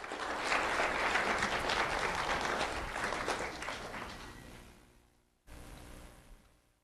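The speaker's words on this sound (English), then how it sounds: "Let's have a round of applause for Julian Echezarreta." Audience applause at a school award ceremony, steady and fairly loud for about four seconds, then fading out, with a brief second burst of clapping near the end.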